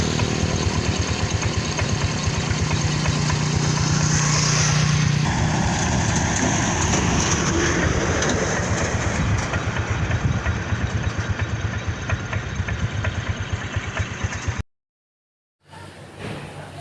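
A motorcycle engine runs steadily at close range, a continuous idling rumble with a low droning hum, holding for about fourteen seconds before cutting out abruptly, then briefly resuming.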